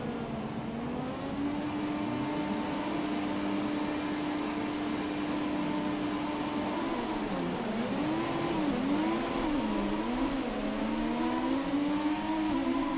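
Formula 1 car engine from the F1 2017 racing game holds a steady high rev at the race start, then rises and falls in pitch as gears shift and the car pulls away, loud and continuous with no talking.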